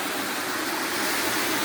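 Steady broadband rush of Moston Brook, a stream flowing from Oldham toward the River Medlock in Manchester, heard close and continuous without talk.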